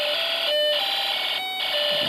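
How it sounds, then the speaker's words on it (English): A Snap Circuits alarm IC output mixed with the music IC gives a harsh, buzzy electronic tone that pulses on and off in two short gaps, steady and loud with no voices. "the music IC, occasionally being interfered by the alarm IC's output being mixed in with it"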